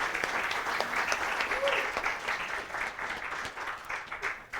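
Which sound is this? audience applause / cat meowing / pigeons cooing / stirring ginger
audience applause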